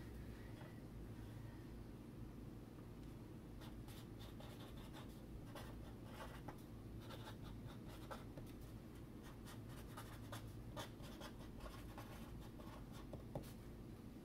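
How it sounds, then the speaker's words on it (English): A pen scratches out a note inside a greeting card, a soft, close scratching that runs steadily under a low background hum, with small clicks and strokes scattered throughout. "And then I'm writing a note in there."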